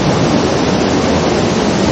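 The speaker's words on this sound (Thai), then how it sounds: "น้ำตก" Steady, dense rush of water at a waterfall reached on a new jungle hiking trail near Huai Thon village, filling the whole moment at constant loudness with no voices.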